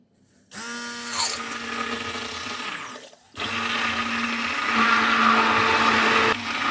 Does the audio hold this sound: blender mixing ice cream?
yes